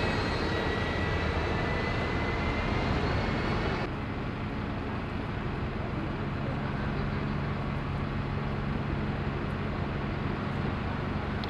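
A Unibus bus in Leamington Spa passes by with a broad engine rumble that is loud at first, then drops to a steadier, duller drone as it moves away.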